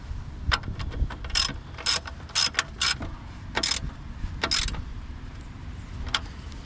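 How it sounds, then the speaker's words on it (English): A ratchet tightens the nut on the negative battery cable of a Chevy Cruze, giving several short bursts of rapid clicking close by, with scattered metallic ticks between them. "We install the nut."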